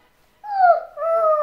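A toddler imitates a dog, giving a short whimpering, howl-like vocal bark alone in a quiet room, two drawn-out cries with a brief dip between them.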